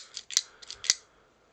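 The claw weapon lever on a Transformers Dark of the Moon Barricade toy being pulled back and moved, producing a quick run of close, crisp plastic clicks and snaps, two of them sharper than the rest.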